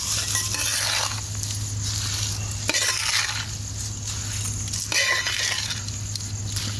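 Curry leaves fry in hot oil for curry leaves rice, a continuous close hiss and sizzle with a few faint clinks of a utensil against the pan, no voices.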